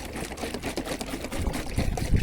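Water is lightly sprinkled over newly potted marigold plants, splashing and pattering in quick bursts, a close, busy sprinkling sound with irregular drips and spatters.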